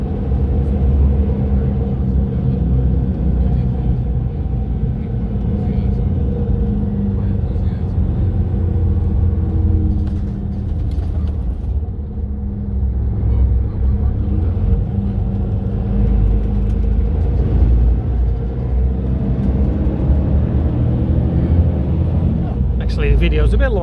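City bus travelling from Sollentuna to Solna in Sweden, heard from inside as a steady, loud engine and road rumble that persists throughout, with a brief dip near the middle and faint rattles.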